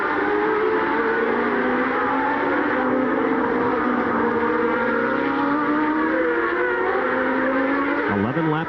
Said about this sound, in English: power down the straight here, the Renault in front and the Honda behind